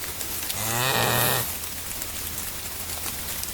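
A mother cow lows to her newborn calf during a blizzard and ice storm, one rising moo of about a second set against steady rain or sleet hiss, fairly close and loud.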